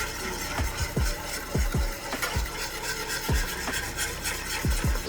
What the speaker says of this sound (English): Go ahead and whisk all that together.